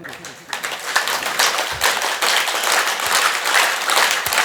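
Hands clap continuously during a group yoga and meditation session, a dense steady patter of many claps that runs throughout with voices speaking over it.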